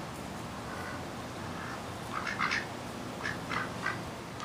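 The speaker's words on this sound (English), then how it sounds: "can't feed the geese and the duckies" Several ducks quack in short bursts over a steady outdoor background hiss, the calls clustered in the second half, moderately close.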